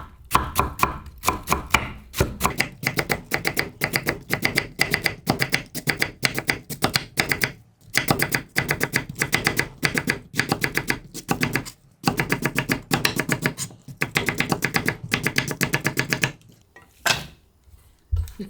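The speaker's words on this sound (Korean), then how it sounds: "칼 밀지 말고 탁탁탁탁 쳐요." Rapid, rhythmic knife chops on a cutting board while cutting radish, sharp taps in quick bursts with brief pauses between runs.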